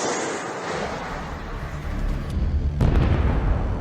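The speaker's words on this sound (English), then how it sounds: "Ukrainian forces fire a Javelin." A Javelin anti-tank missile launches and strikes an infantry fighting vehicle in a combat zone, heard as a rushing roar followed by a sharp, heavy blast and rumbling aftermath, loud and close with no speech.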